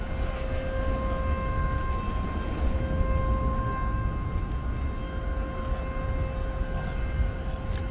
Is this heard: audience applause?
no